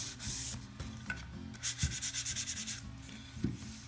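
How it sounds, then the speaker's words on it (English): Hand sanding across the top of a wooden sign, a soft scratchy rubbing in short back-and-forth strokes, including a quick rhythmic run of passes, close and with no talking. "you just gently sand the top of the wood just to get a nice smooth surface"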